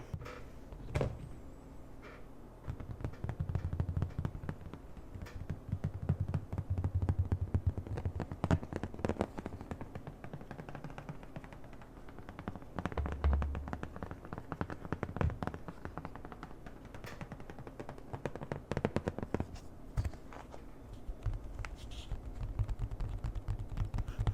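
A lid coming off a cardboard box of anime merch, heard as a long run of close tapping, scraping and creaking cardboard sounds over a low steady hum, fairly quiet and continuous, with no talking.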